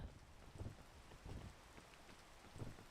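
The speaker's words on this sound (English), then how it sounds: "Rain." Rain in the video game Peak, a soft steady patter of falling drops with a few louder splashes, faint and continuous throughout.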